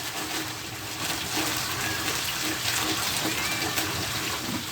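Water pours steadily into a greenhouse tank while fertilizer is added, making a continuous, fairly loud gushing and splashing rush with no talking over it.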